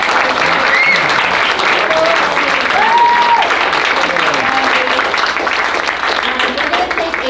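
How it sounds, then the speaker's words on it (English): Dense, sustained applause from a large live audience at an entrepreneurship event fills the room steadily, loud and close, with a few shouts and voices mixed in. "can we please give a round of applause for our"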